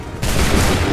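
A sudden massed musket volley erupts in Assassin's Creed III, a loud roaring burst of gunfire that starts sharply and sustains to the end.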